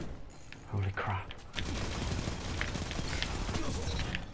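Rapid bursts of SMG fire in a video game crackle steadily through most of the stretch, dense and fairly loud, after a short lull near the start.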